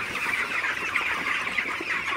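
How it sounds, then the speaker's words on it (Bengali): A flock of broiler chickens clucks continuously nearby inside a poultry house, many overlapping soft calls forming a steady murmur with no talking. "তো আপনারা দেখতে পাচ্ছেন আমার ব্রয়লার মুরগিগুলো"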